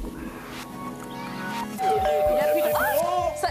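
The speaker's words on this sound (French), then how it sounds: "La sonnette part." A doorbell chime sounds at a dinner-party scene on French television, a short ding-dong under music and background voices, followed by a sustained ringing tone.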